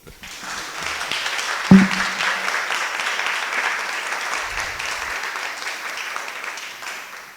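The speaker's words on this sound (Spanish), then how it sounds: "Un aplauso, por favor." Applause for podcast panelists rises from a small studio audience, a steady even patter of clapping at moderate level, with a single sharp knock near the start and a brief low rumble midway.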